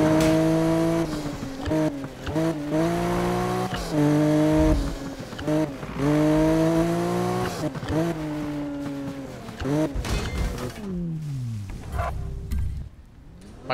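A Toyota Supra in the video game Need for Speed (2015) revs and roars through repeated gear shifts, rising and falling in pitch, loud and close, then fades into quieter rumbling at the end.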